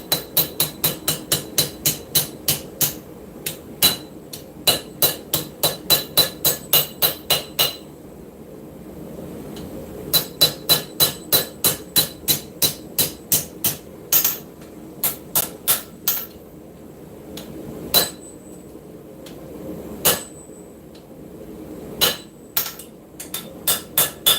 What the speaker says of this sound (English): All we're trying to do is correct lines and clean things up. Put it on the edge of the anvil.